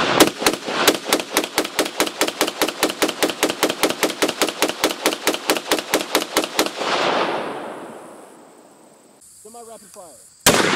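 Rifle fired semi-rapid from the prone position at AR500 steel ballistic plates, around thirty loud, evenly spaced shots in a quick steady rhythm, then a fading echo and a few softer metallic sounds.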